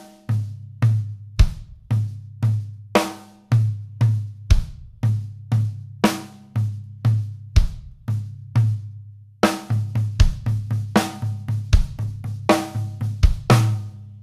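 A linear drum pattern on a kit plays snare accents, kick and double strokes on a rack tom in a tight repeating rhythm, each hit crisp and close with no overlapping notes, speeding into denser strokes midway; no talking.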